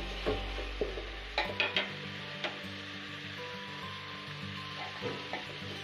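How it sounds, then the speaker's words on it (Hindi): Tomatoes cooking down in a pan for puffed rice vaggani, a low steady sizzle with a few clicks and knocks of a utensil early on, fairly quiet and with no talking. "हमें जब तक ये टमाटर गल नहीं जाते तब तक इसे पकाना है"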